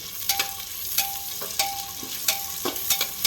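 Cloves and peppercorns roasting in hot oil for biryani, with a soft, steady sizzle and several light taps and scrapes of a stirring spoon against the pan.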